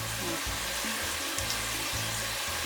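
Water being poured off the top of settled malt liquid for Korean sikhye, a steady splashing trickle close by with faint rhythmic low thumps, no talk.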